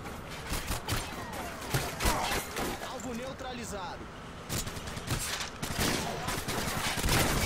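Rapid bursts of gunfire in Call of Duty: Modern Warfare 2, sharp repeated shots in clusters with game effects, heard under a player talking excitedly.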